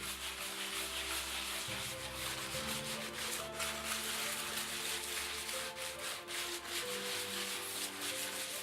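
Steady, continuous rubbing of waterproof 280 grit sandpaper over a wooden dolls house facade, close up, with a low hum underneath and no talking.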